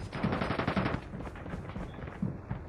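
Gunfire in the video game Call of Duty rattles in rapid, dense bursts of close shots, loudest at first, then continuing more sparsely with a few sharper reports.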